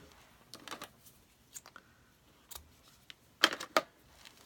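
Scissors snip through a piece of ribbon in a few quiet, close, crisp cuts with pauses between, ending in a pair of sharper snips.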